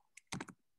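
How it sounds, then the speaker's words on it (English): A few quick keystrokes on a computer keyboard, entering a search for a costume history book, in a short close burst of about four taps alone in a quiet room. "I'm typing in History of Costume,"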